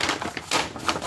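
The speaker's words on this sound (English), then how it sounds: "Listen to that crinkle." Gift wrapping paper from around a handmade journal crinkles up close in quick, bright bursts of rustling, loud and with no voices.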